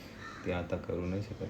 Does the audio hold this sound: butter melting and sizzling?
no